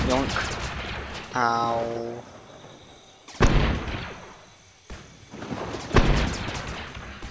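Grenade launcher fire in the Roblox Clone Wars game on Felucia: several heavy booms land a second or two apart amid gunfire, with a short voice cry and a brief tonal game sound early on.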